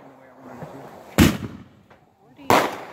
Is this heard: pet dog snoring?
no